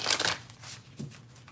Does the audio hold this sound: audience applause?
no